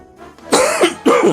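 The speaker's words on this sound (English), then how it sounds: "That's me, coughing and sputtering all the fucking time" Two short, harsh coughs close to the mic, following a quiet intake of breath, with a brief pause between them.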